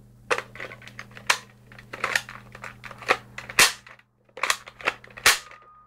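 A Nerf Maverick rev.6 toy blaster fires a dart amid a rapid, irregular run of about a dozen sharp, close plastic clicks and snaps from its mechanism, with no talk.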